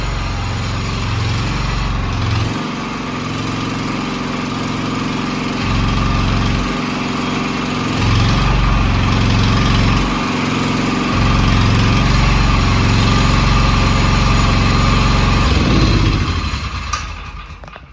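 A Honda GX390 engine driving a fire-engine water pump runs with its silencer closed, giving a loud, steady, rough drone with a slight rhythmic pulsing that cuts off abruptly near the end.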